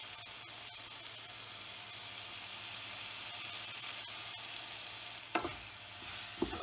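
Potatoes with turmeric, salt and red chili powder sizzling and frying in a pan, a steady soft crackling hiss with a few scraping stirs of a spoon, close and quiet.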